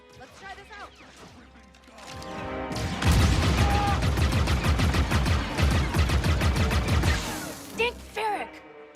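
Heavy gunfire in a full-on firefight from the Star Wars Outlaws video game, with a burst of rapid, loud shots and impacts that starts after a quieter stretch of game ambience and continues almost without a break.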